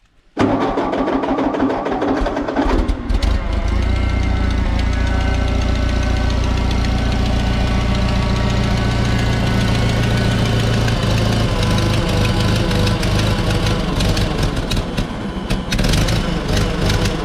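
A 1939 Ford 9N tractor engine runs loud and close, a steady chugging idle with knocking roughness and vibration that holds throughout without any voices.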